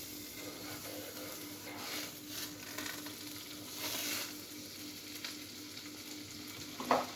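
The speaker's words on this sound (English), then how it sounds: "Take your butter, cut a nice chunk off. You put it in the pan over here." A chunk of butter sizzles quietly in a pan, a faint soft hiss with a low steady hum beneath, a few swells of scraping and a sharper clack near the end.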